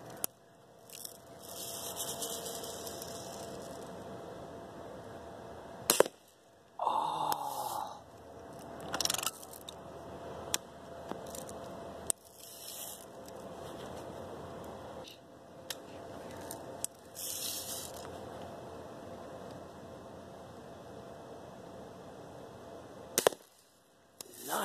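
A BB gun fires at glow-in-the-dark balloons, giving several sharp, sudden pops and cracks spaced seconds apart. Faint low background noise and occasional quiet voices sit between the shots.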